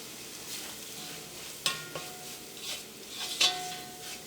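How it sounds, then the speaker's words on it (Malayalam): Coriander powder frying in oil for a Kerala chicken curry with raw plantain, giving a steady soft sizzle with a few sharp clinks of a spoon stirring against the pan. "ഇപ്പം മല്ലിപ്പൊടിയും എണ്ണയിൽ നന്നായിട്ട് മുരിഞ്ഞിട്ടുണ്ട്"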